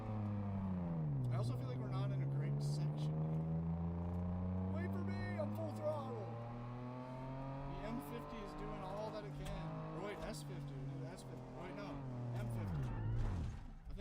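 Car engine held at full throttle in a sim drifting game, a loud, sustained rasp whose pitch sways up and down with the slides, tire squeal bursts cutting in, and a voice talking over it.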